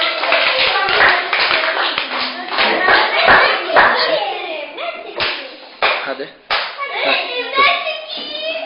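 Young children in a preschool classroom clap in short, sharp bursts between stretches of a teacher's and kids' talking, the slaps close and irregular.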